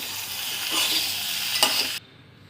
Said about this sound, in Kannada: ಒಗ್ಗರಣೆ ಜೊತೆ ಸ್ವಲ್ಪ ಕುಂಬಳಕಾಯಿನ ಹೀಗೆ ಮಿಕ್ಸ್ ಮಾಡ್ಕೊಳ್ತೀನಿ